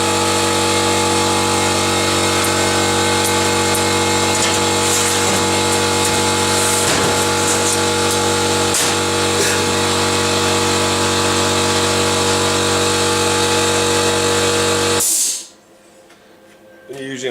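A plasma cutter slices through metal with a loud, steady, buzzing roar and a constant electrical hum, close up, running continuously before cutting off abruptly near the end into quiet.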